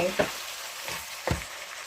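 Okra and oyster mushrooms stir-fry in a hot pan with a constant soft sizzle, broken by three distinct scraping stirs of the spatula spaced roughly evenly apart.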